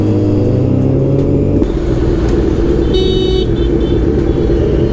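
A Kawasaki Z900 superbike's exhaust roars loudly and continuously on the road with a pillion aboard. The engine note shifts in character partway through, and a brief higher tone cuts in near the middle.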